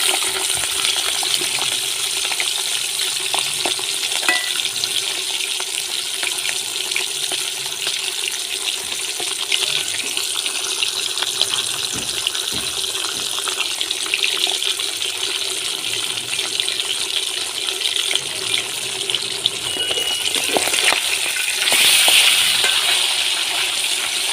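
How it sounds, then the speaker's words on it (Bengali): Pieces of rui fish fry in hot oil in a pan for a Bengali rezala, giving a steady, close sizzling crackle throughout with occasional utensil clinks and no talk. "বাকি মাছটাও ভেজে নেব একইভাবে।"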